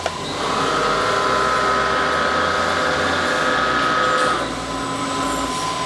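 Baileigh tube bender working on chassis tubing, a foot-pedal-operated machine: a steady, loud hydraulic whine and hum runs almost the whole way, easing slightly near the end, with no talk over it.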